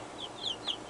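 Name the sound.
chickens clucking, a broody Leghorn hen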